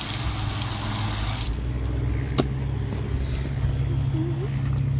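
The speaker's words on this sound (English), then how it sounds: "I'm going to do one more test and rinse this off," Water rinses over a wooden deck coated with YellaWood Protector Rich Walnut semi-transparent stain and sealer, a constant rushing wash with a low steady hum beneath it.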